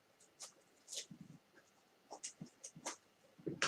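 Fabric for a homemade face mask is cut in a quiet room: roughly a dozen short, close, crisp snipping strokes come in small irregular bursts with brief pauses between them.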